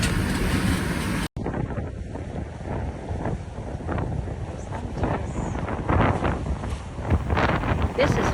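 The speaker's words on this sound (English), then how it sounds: "Wind and stuff." Steady wind roars across the microphone aboard the sailboat Huntress under full sail on whitecapped water near Grenada, a continuous loud rushing with gusty swells and a sharp cut early on.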